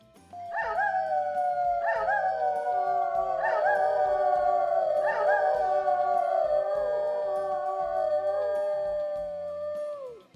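A small dog in a condominium howls in a drawn-out, operatic way, several long wavering howls rising and sliding down in overlapping waves, loud and close, with no talking.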